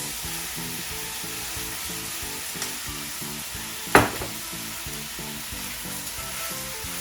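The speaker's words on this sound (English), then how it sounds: "Once one side is pretty much cooked, then you go and add your broccoli florets and your mushrooms." Broccoli florets and mushrooms fry in a hot pan on the highest heat, giving a steady close sizzle that runs throughout, with one sharp clatter midway and a rhythmic low beat underneath.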